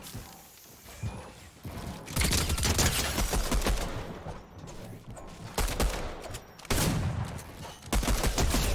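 Rapid video-game gunfire, pistol shots among a mix of guns in a shooter, comes in repeated loud bursts with short gaps between volleys; some clatter and footstep-like sounds fill the pauses.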